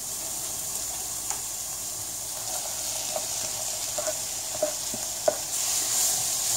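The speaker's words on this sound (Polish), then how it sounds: "Dodamy paprykę i smażymy około 2 minut." Bell pepper, onion and carrot stir-frying in a pan for a Thai chicken soup, a steady loud sizzle with occasional clicks of a utensil stirring, no talking.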